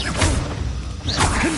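Depulso and Expelliarmus spells cast in Hogwarts Legacy land as two magical whooshing swishes with thudding impacts, about a second apart, loud and close.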